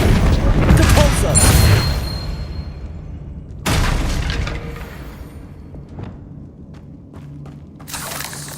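Hogwarts Legacy Depulso spell effect: a loud burst of booming, crackling impacts fills the first two seconds, followed by a second sharp blast around the middle and scattered lighter thuds and magical shimmering to the end.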